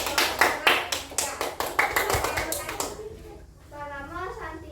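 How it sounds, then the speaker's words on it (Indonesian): Classmates applaud a river-themed student group in a classroom, a burst of quick, uneven hand claps lasting about three seconds before fading into a voice speaking. "silakan berikan tepuk tangan dulu untuk kelompok sungai ya"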